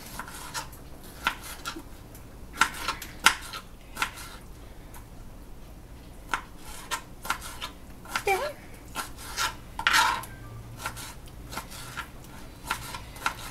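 A knife chops a tomato into small pieces for a beef and chile dish, giving quick, light, irregular taps and scrapes on a cutting board close by, with a person talking intermittently.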